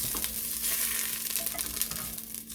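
Beef pieces sear in a cast iron Dutch oven for stew, giving a steady, fairly quiet sizzle with a faint low hum beneath it and no talking.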